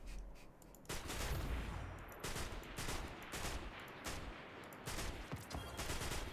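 A player's weapon fires in Destiny: Rising, rapid bursts of shots in quick clusters with short pauses between them, fairly quiet overall and without talk.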